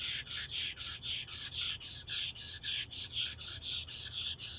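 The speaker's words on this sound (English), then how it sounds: "And I'm going to wet abrade with the 400 grit." Wet abrading of a strain-gauge beam with 400-grit sandpaper and a mild phosphoric acid conditioner: a steady series of about fourteen quick, even rubbing strokes, close and fairly loud, with no talking.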